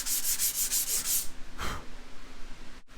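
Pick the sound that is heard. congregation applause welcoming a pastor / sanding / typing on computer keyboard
sanding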